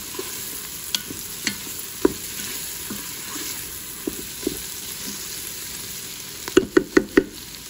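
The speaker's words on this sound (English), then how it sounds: "So 30 seconds of stirring the garlic." Garlic being stirred in a Ninja Foodi pot, a soft sizzle under scattered knocks of a utensil against the pot, ending in a quick run of four sharp taps.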